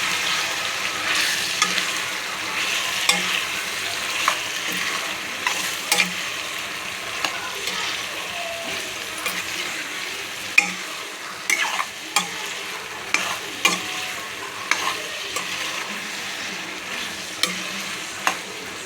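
Food frying in a pan and being stirred, a constant broadband sizzle with scattered sharp scrapes and clinks of the utensil against the pan throughout, no talking.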